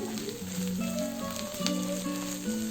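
Ingredients for a taro-root egg curry frying in a pan, a steady soft sizzle throughout with faint background music tones and no talking.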